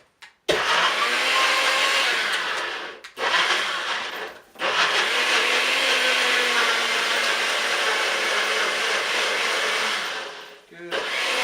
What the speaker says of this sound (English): NutriBullets work real well